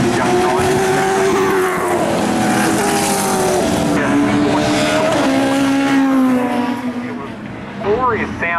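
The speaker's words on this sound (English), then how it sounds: "Glorious sounding number 67, the Mazda RX-8 through Henley" A Mazda RX-8 sports sedan race car, number 67, roars past at Winton raceway. Its high-revving rotary engine howls loudly and steadily, then fades, with a commentator talking over it throughout.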